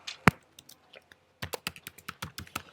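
Close, crisp keystrokes on a computer keyboard while writing JavaScript code: one sharp click, a short pause, then a quick irregular run of taps.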